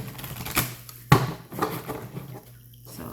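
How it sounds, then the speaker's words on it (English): Tarot cards are shuffled by hand in a few quick riffles and snaps, close and crisp, with soft rustling between the sharper clicks. "let me get a couple more shuffles in here"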